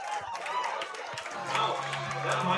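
A baseball crowd at a Spearfish Sasquatch home game cheers and claps during play, a broad steady roar of many voices at a moderate distance.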